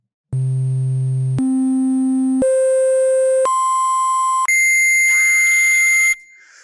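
Pure electronic tones demonstrate pitch, stepping upward in five loud, steady stages of about a second each, from a low hum to a high whistle, then stopping.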